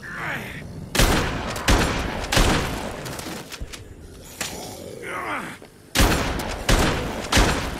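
Boomstick shotgun blasts in the Dead Rising 2: Case 0 video game, several loud heavy booms spaced about a second apart, with zombie groans and gasps in between.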